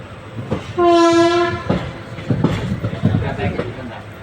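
At Salem Junction station a train horn blasts loudly for under a second, followed by rumbling rail and station noise with people talking nearby.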